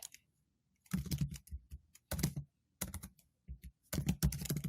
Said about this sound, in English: Typing live in front of people is always fun.